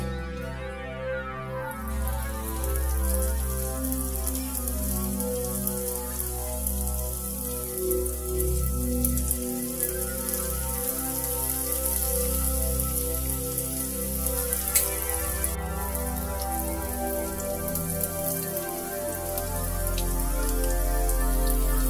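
Vegetable spring rolls deep-fry in hot oil, making a dense, continuous crackling sizzle like heavy rain, loud and close, with a steady low hum underneath and no talking.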